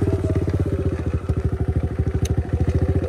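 A bone-stock 2016 Kawasaki KLX 110 pit bike engine idling up close, with a loud, steady, fast rhythmic thumping putter and a slight clattery edge.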